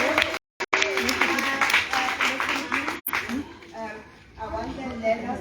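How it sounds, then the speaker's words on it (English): An audience claps for a child, a burst of mixed applause with cheering voices and talk over it, fading in and out in uneven waves. "Let's give him a Claudia clap."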